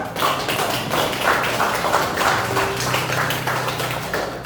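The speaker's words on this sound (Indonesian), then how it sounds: "kita tepuk tangan dulu ya" A classroom of pupils claps hands together during a teaching practice lesson, a dense steady rattle of many small hands continuing for several seconds, close and fairly loud, with a voice faintly underneath.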